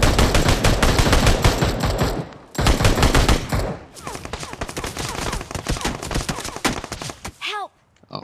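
Rapid automatic gunfire from a video game firefight, loud sustained bursts with brief pauses between volleys and a faint voice near the end.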